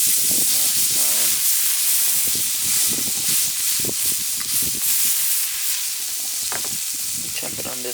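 Steak sizzles loudly on a Weber Q griddle, a constant close hiss of frying fat and steam, with occasional scraping and faint voice-like sounds mixed beneath the crackle.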